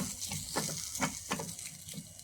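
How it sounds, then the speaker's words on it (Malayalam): Turmeric, chilli and coriander powder being stirred in a pan, a quiet sizzle with soft rhythmic spoon scrapes. "എന്നിട്ട് ഇതെല്ലാം കൂടി ഒന്ന് ഇളക്കി കൊടുക്കാം"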